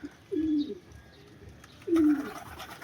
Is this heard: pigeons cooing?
yes